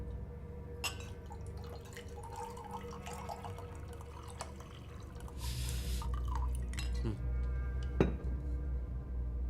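Wine poured into a glass at a family celebration: a faint, brief liquid pour midway through, with scattered light drips and glassy clinks in a quiet room, and no talk.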